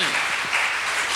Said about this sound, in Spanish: Dale ofrenda de palmas al Señor